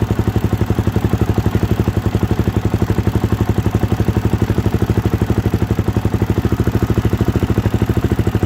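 A 2013 Suzuki DRZ400SM single-cylinder engine idles close by at its first start, with an even, rapid low thumping pulse that stays steady throughout, no voices.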